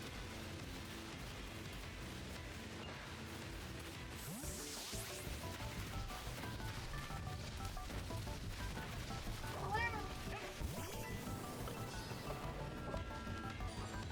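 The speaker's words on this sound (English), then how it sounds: "Low vocal cat." A cat meowing low and drawn out, repeated a few times over a busy background of game music and effects while Pokémon Legends Arceus is being played.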